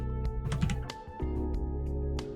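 Typing on a computer keyboard: a quick, irregular patter of close, fairly quiet key clicks over a steady background hum.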